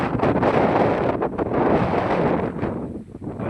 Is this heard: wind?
yes